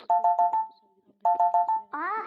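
A mobile phone rings with a short, bright tonal melody played twice with a pause between, close and loud, followed by a brief voice.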